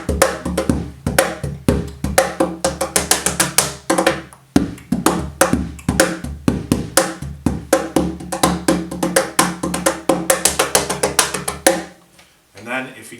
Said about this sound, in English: there's different types of tones depending on what part of the drum you hit